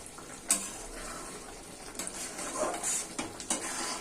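Fish curry (loté fish) simmering in a pan while being stirred now and then, giving soft scraping and clinks of a utensil against the pan over a steady low bubbling sizzle, with a few sharper knocks.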